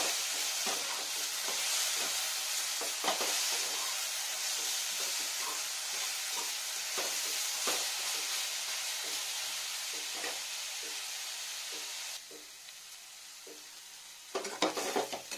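Fenugreek leaves fried with boiled potato, brinjal and tomato in a pan give a steady, close sizzle that runs throughout, with stirring scrapes, then a quieter stretch before a few louder clatters near the end.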